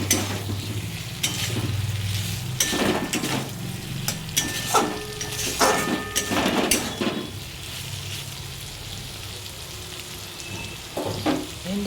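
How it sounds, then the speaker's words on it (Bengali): Okra stir-fried in spiced oil in a pan sizzles steadily, broken by repeated scraping and stirring strokes of a utensil against the pan. "ভেন্ডিটা দিয়ে একটু মতন আমি কষে নিই"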